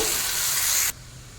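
Chopped onions and green chillies hiss loudly in hot oil for under a second, then the sizzle abruptly drops away to a quiet low murmur.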